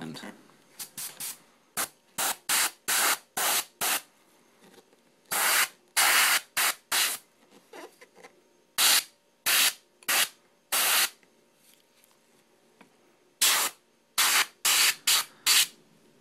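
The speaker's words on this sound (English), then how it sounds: "I've loaded up the airbrush with very, very light blue. We're just going to hit it from the top." An airbrush spraying very light blue paint onto a miniature in short hissing bursts, about twenty quick puffs in an irregular rhythm, close and clear, with brief quiet gaps between them.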